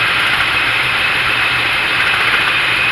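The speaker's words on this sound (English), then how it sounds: "That's just the fan shroud hitting the fan." A car engine runs at a steady idle with its fan shroud rubbing against the spinning fan, giving a loud, continuous whirring and scraping drone with no breaks.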